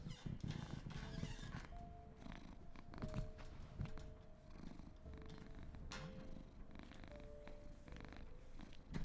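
A cat purring close up, a steady low rumbling purr running through the whole stretch with a few soft background noises, no voices.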